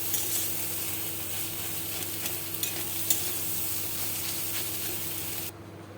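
Egg bhurji with spices stirred in a frying pan, a continuous sizzle with scraping stir strokes throughout, steady and close, cutting off near the end.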